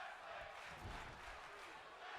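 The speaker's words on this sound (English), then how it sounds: "As our live crowd is sitting there chanting, "This is wrestling."" A live wrestling crowd chanting in unison, a dense, distant-sounding wash of many voices filling the arena steadily at moderate volume.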